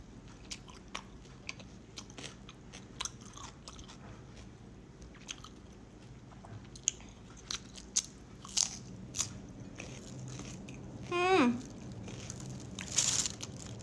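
Cucumber being bitten and chewed up close, with sharp crisp crunches spaced a second or so apart, then wetter chewing and crackling, over quiet background.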